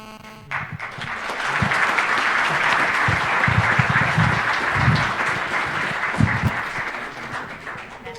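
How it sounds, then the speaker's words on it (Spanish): A large audience at the closing session of a panel discussion gives panelists loud, sustained applause. Dense clapping swells and holds for several seconds, with a few whoops and murmurs mixed in. "Yo les pediría un fuerte aplauso, más fuerte todavía"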